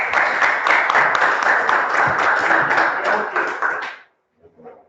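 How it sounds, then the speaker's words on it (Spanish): A class of students applauds during an accounting lesson, close and fairly loud clapping with distinct individual claps that stops abruptly, followed by a brief faint voice. "Le damos un aplauso a todos."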